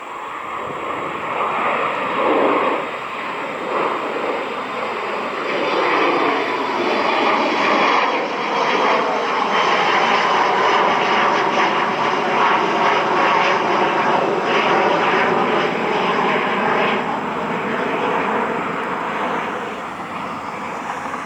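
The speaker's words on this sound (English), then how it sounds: "Frontier Flight 4136 A321 Neo, I believe, heading to Miami." Frontier Airlines Airbus A321neo jet departing from an airport in Cleveland, a loud, sustained engine roar that builds and rumbles steadily for about twenty seconds at a fair distance, with some wind noise and no talking.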